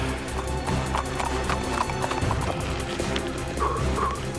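Horse hooves clip-clop over rough, rocky ground during an outdoor chase, a close, steady rhythm of repeated hoof strikes under background noise.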